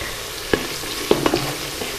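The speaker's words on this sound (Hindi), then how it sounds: "तो प्याज को यहाँ पे थोड़ा सा ब्राउन होने देते हैं।" Onions fry in a pan for a rice dish, a soft sizzle with a few sharp stirring scrapes and clicks of a utensil, close and fairly quiet.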